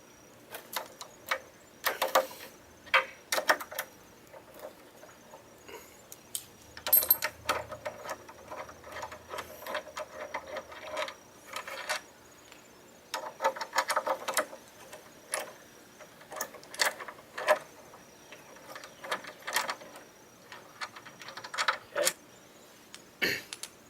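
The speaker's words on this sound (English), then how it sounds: "First you need to loosen these two bolts here, and you need a 12mm socket for that." A 12 mm socket wrench loosens the brake assembly bolts on a scooter, producing short bursts of sharp ratcheting clicks separated by quiet pauses, close and fairly faint.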